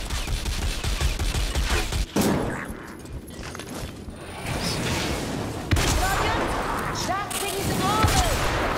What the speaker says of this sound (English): Rattling gun. The gunner is targeting me!